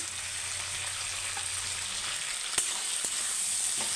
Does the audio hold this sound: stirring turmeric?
yes